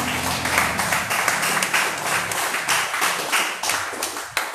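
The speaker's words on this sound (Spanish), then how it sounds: "dele otro aplauso a Jesús." A church congregation claps steadily together during a service, loud and sustained applause with rhythmic beats throughout.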